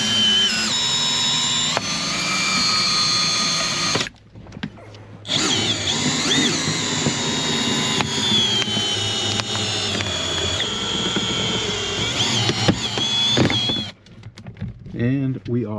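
Power tool cutting out the windshield of a 2024 Hyundai Santa Fe, a loud, continuous whining drone that stops abruptly twice, with a voice talking over it.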